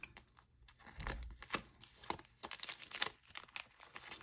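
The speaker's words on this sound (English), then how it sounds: "Let's fold this up nice and neat" Paper from a cash-stuffing envelope for a savings challenge crinkles and rustles up close as it is folded, in uneven bursts of crisp crackles and soft handling noise, with no voice.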